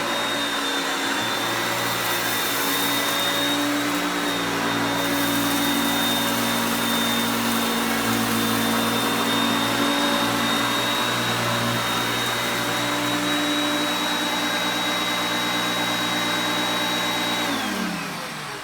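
Hoover vacuum cleaner running on luxury carpet, a loud steady motor whine and airflow roar held for most of the time, then winding down as it is switched off near the end.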